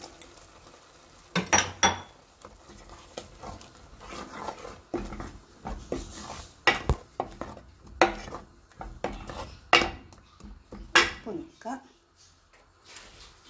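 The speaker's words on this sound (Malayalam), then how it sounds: "അപ്പോൾ ഇതൊന്ന് ഉടച്ചെടുക്കാം" Cooked red cow beans and green banana being mashed in a pot, with a series of irregular knocks and scrapes of a utensil against the metal pot, close and moderately loud, beneath occasional speech.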